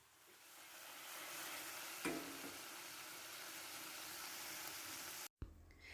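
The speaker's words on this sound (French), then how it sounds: "je vais faire cuire les boulettes de viande hachée dans cette poêle dans laquelle j'ai ajouté un peu d'huile végétale" Minced meatballs seasoned with salt and pepper fry in a pan of vegetable oil, giving a steady, close, broadband sizzle with a brief louder flare partway through and a short cut near the end.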